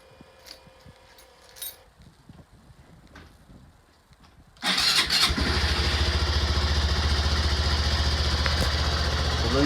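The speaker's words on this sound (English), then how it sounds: "So this is a cold start for both of them." Two Honda Grom motorcycles, unstarted for a couple of weeks, cold start after about four and a half seconds of quiet background. The engines catch suddenly and then settle into a loud, steady idle that continues to the end.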